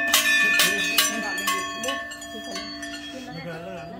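Temple bells at Shri Kandoliya Thakur temple in Pauri Garhwal, struck repeatedly in a quick irregular series of bright metallic clangs with long ringing tones, while someone talks over them.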